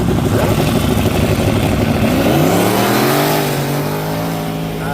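Loud roaring engines of drag race cars rev hard and climb in pitch as they accelerate on ice at the Merrill Ice Drags, a harsh buzzing drone that smooths into a rising whine toward the end.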